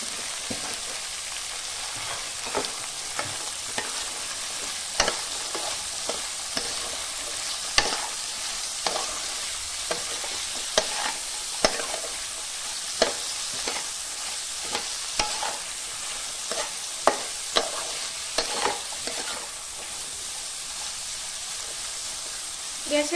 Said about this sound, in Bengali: গ্যাসের ফ্লেমটা মিডিয়াম টু লো করে সবজিগুলোকে আমি ভালো করে ভেজে নেব।